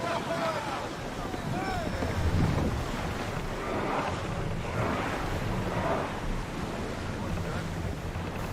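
A ship under sail in Assassin's Creed Odyssey, with a steady wash of sea waves and wind rushing over the hull, continuous and fairly loud throughout, with faint voice-like tones drifting in the background.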